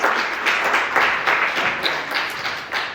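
A campaign event crowd for a Colorado 8th District congressional candidate breaks into steady applause and clapping, loud and close, sustained throughout.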